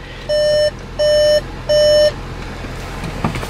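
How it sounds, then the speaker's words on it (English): Three long, even electronic door-open warning beeps from a 2017 VW Golf Sportwagen at a steady pace, loud and close, followed by quiet background hum. "And it's going to beep at me, so I'll close the door."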